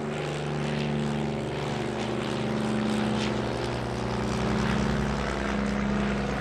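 Dornier Do 27 propeller aircraft at an airshow at Lleida, a loud steady piston engine drone with a throbbing propeller beat, holding near and constant throughout with no speech.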